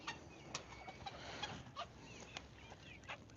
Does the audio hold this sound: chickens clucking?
yes